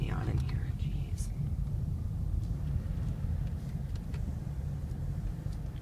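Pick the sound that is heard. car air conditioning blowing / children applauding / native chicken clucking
car air conditioning blowing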